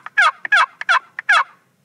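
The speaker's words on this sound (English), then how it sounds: "The sound that you make, the most basic sound and the best one for a box call is just a standard plain old yelp." Quaker Boy wooden turkey box call run as a plain yelp, four raspy, close notes in a steady rhythm, each opened by a short sharp scrape, with no talking.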